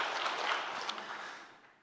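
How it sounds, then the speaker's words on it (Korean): A church congregation applauds during a Sunday worship service, a dense wash of clapping that is full at first and then gradually thins and fades toward the end, with no voices over it. "우리 귀한 찬양 받으신 하나님께 우리 감사와 찬양의 박수 올리겠습니다"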